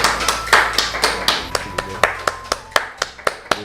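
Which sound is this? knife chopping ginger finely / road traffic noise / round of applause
round of applause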